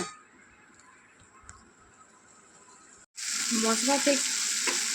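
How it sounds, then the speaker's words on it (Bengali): A wet spice paste of ground spices mixed with water sizzles loudly in oil for a pointed gourd and soya chunk curry, breaking in abruptly after a near-silent pause and then frying steadily under stirring. "এরপর মশলাটাকে ভালোভাবে কষিয়ে নিতে হবে তেল ছাড়া পর্যন্ত।"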